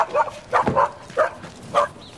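Dogs bark and yip in short bursts, four or five quick calls spaced about half a second apart, fairly close and moderately loud, with some whimpering tones mixed in.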